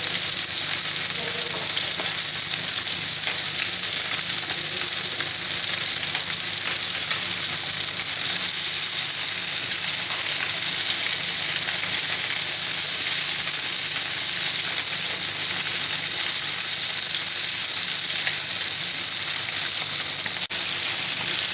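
Common pandora (mercan) fish fry in a pan, second side down, with a loud, constant crackling sizzle that holds steady throughout, with no voices.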